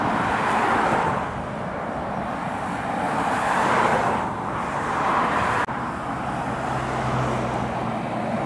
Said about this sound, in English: And it's another Mercedes Actros for Cafe International.